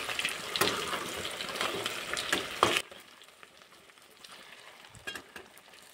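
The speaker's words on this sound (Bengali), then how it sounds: "এবার পাকোড়াগুলো পাল্টিয়ে দেবো।" Sago pakoras fry in oil in a wok, giving a loud, close bubbling sizzle with stirring knocks as they are turned, then the frying settles to a softer crackle.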